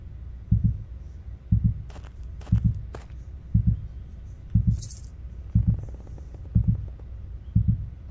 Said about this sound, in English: The closer you are, the faster your heartbeat.